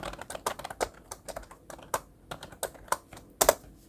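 Rapid keystrokes on a computer keyboard while entering data in Excel 2021, irregular bursts of close, crisp clicks with brief pauses and no speech.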